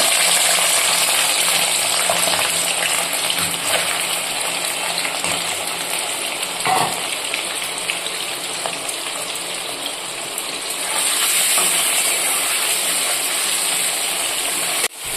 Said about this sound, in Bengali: কড়াইতে তেল গরম হয়ে গেছে। এবার চিংড়ি মাছগুলো ভেজে নেব।